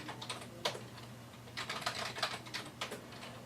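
A password is typed on a computer keyboard in quick, irregular bursts of soft clicking keystrokes with short pauses between them, quiet and close, with no voices.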